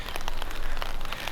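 Rain falling on a rainy evening in Daikanyama, Tokyo, a dense steady patter of drops hitting hard surfaces close by, with no voices.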